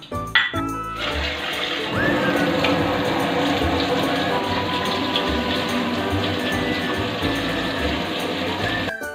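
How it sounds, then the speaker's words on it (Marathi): Rice and moong dal being rinsed in water for khichdi, with steady running and splashing water sloshing close by for several seconds, a few clinks near the start. "डाळ आणि तांदूळ 2-3 पाण्याने स्वच्छ धुवून घेऊ."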